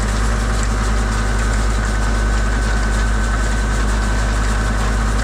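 A tractor engine runs steadily during blueberry harvesting in wet, sticky field conditions, giving a loud, close, unchanging low rumble with a faint knocking texture and no voices over it.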